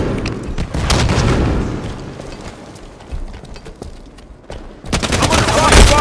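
Rapid gunfire and explosive booms from a Halo 5 Guardians multiplayer match, dense and loud at the start, easing in the middle, then surging again near the end.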